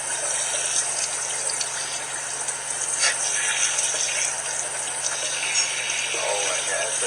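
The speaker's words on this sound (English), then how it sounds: "What it's like to take a shower, buddy." Shower water gushes steadily over a small puppy, a continuous broadband hiss of spray filling the space, with faint voices in the background.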